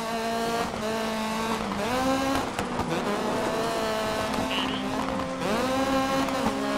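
Rally car engine revving hard through repeated gear changes with tire squeal on a stage in Dirt 3, loud and close, rising and falling in pitch, with a rival Peugeot nearby.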